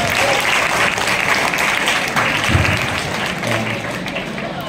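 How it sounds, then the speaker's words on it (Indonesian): A crowd applauds steadily and loudly, a dense wash of clapping that carries on throughout without pause. "Aplausnya dong,"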